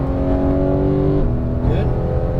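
Porsche 911 GT3 (991) engine revving hard under throttle on a racetrack, its steady high-pitched tone dropping as it upshifts partway through, then climbing again, loud and close from inside the car.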